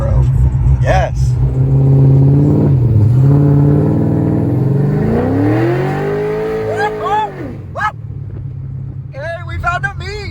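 A cammed Chevrolet Corvette C6 with aftermarket heads, cam and torque converter rumbles loudly at a Street Car Takeover meet, its engine revving up and falling back mid-clip under steady nearby talking.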